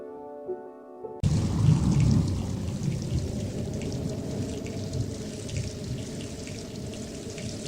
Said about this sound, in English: rain started falling and disturbed the people